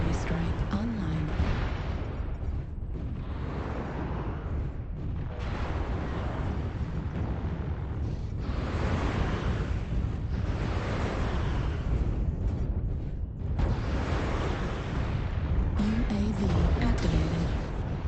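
Artillery strike in MechWarrior Online, a heavy rolling rumble of repeated booming explosions that goes on throughout, loud and dense, with a voice talking over the blasts.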